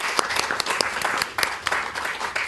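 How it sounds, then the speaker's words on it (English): An audience at a city council meeting in Millbrae, California gives a short, moderate round of applause, with individual hand claps standing out from the crowd. "please give Michele a round of applause"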